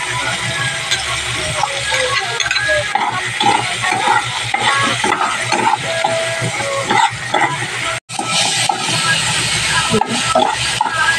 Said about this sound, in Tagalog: Ganito po pala ako maggisa. Inuuna ko muna ang ating kamatis.